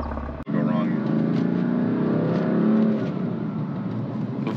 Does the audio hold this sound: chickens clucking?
no